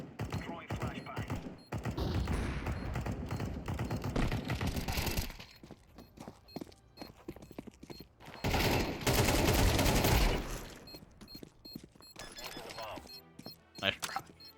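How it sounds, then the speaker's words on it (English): A flashbang grenade is thrown in Counter-Strike 2 amid bursts of rapid gunfire and sharp impacts, loud and dense in stretches with quieter gaps between, and a voice talks over the action. "Throwing flashbang."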